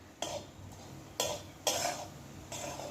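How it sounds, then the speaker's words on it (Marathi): A spoon scrapes and stirs jaggery in a pan with tender cashew nuts and coconut as it melts, four distinct scraping strokes at close range over a faint background sizzle, fairly quiet overall. "हा आता गूळ आपण त्याच्यामध्ये घालूया आणि गूळ आता हा छान वितळेपर्यंत आपल्याला हे परतायचं आहे"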